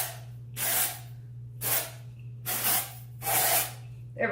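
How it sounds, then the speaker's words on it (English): Batiste dry shampoo sprayed onto hair in four separate hissing bursts, each lasting about half a second, close to the mic over a low steady hum. "So first things first, I do the Batiste dry shampoo."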